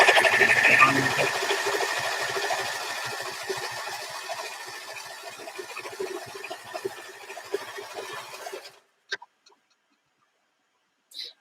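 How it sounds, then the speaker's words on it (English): Domestic sewing machine stitching bunting, a steady, close whirring hum with rapid mechanical ticking that runs loud for about eight seconds, then stops, leaving a few light clicks and silence. "I very much doubt you'd hear me over the machine"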